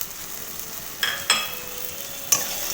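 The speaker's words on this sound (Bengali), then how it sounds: "ভেজে রাখা শুটকি মাছ দিয়ে একসাথে ভালোভাবে কষিয়ে নেওয়া হয়ে গেছে" Fried dried fish (shutki) being stir-fried with vegetables in a pan, a soft background sizzle broken by three distinct metallic scrapes of a spatula against the pan, close and fairly loud, with no voices.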